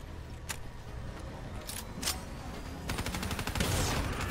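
Rapid gunfire in the Black Ops 3 campaign on Nightmare Mode, a few scattered shots followed by a fast, steady automatic burst that builds toward the end over a busy game background.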